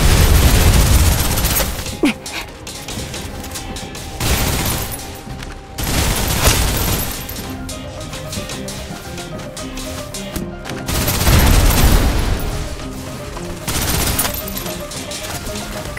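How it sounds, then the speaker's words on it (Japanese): Suppressive gunfire in heavy, loud sustained fusillades, with rapid automatic bursts and booming shots that come in surging waves with brief lulls between them. "制圧射撃を始める。"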